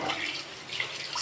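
Hot water poured into a household sink while cooking rice rotis, a steady broadband splash and trickle heard close and alone for the whole moment.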